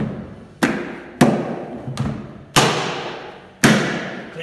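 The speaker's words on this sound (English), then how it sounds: "Clicks with a good German click." Plastic parts of a Starmix vacuum cleaner snap firmly into place, giving five sharp, solid clicks with short decaying thuds, spaced irregularly and close by with no talk.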